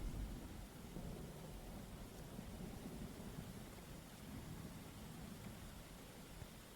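Continuous broadband rush of heavy rain with a low rumbling undertone like distant thunder during a storm, loud and steady throughout with no voices.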